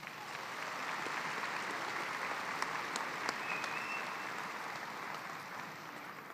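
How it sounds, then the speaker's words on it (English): A commencement ceremony crowd at Angelo State University applauds in a steady, dense wash of clapping that holds evenly throughout, with no talking over it. "Give them a round of applause"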